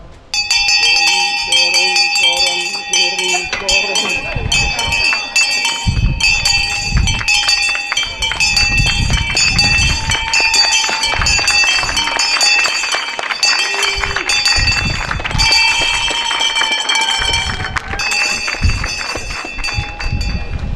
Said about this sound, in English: When the bell rings, it's a sound of opportunity.